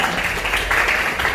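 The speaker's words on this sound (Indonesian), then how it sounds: "Tepuk tangan buat Anissa." Applause from an audience at a school performance of Kuda Gipang traditional dance in Tapin, a brief burst of steady clapping heard close.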